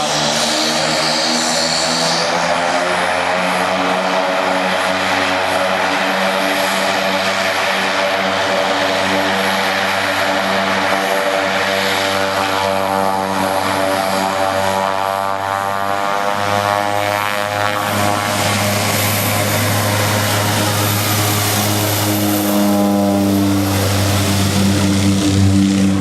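A propeller airplane accelerating down a runway for takeoff, a loud, continuous engine and propeller drone that rises in pitch and intensity as it gathers speed, close by, with no talking.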